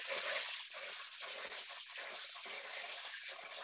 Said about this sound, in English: Let's go and wash up the rice. So hot water first.